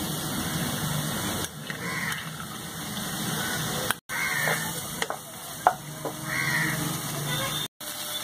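A paste of cashews, raisins, poppy seeds and melon seeds is stirred into a mixture in a frying pan, with a steady sizzle, a few scraping stirs and brief clatters.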